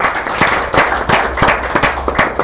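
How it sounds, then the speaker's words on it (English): An audience at the Mining 4i mining forum breaks into applause after a presentation, a burst of clapping with distinct, uneven hand claps standing out from a thinner crowd, fairly close and steady for the whole stretch. "Another round of applause."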